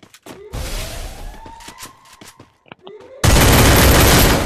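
Gunfire in the Free Fire Clash Squad mobile game, with sharp single shots and a rattling burst, then a loud, dense automatic volley at the end, over brief talking and whooshing game effects.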